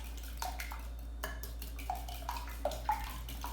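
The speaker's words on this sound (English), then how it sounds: "I've got 6 eggs and half a cup of milk, and I'm just going to beat this together" Eggs and milk beaten together in a bowl: a few light clinks and taps of utensil against the bowl with soft wet swishing between them, close by and fairly quiet, with no voices.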